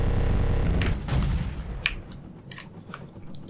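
Cannon fire from an attack helicopter in the Comanche Gold video game, a rapid burst of heavy rumbling shots in the first half followed by scattered sharper impacts and explosions that fade lower toward the end.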